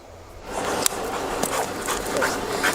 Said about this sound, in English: He's a 3-year-old collie, and he's trained as a drugs detection dog